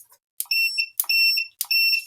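A multimeter in continuity-test mode, checked while repairing an RX 6600 8GB graphics card, gives three loud, close, high-pitched electronic beeps in quick succession, each held briefly, with no voices.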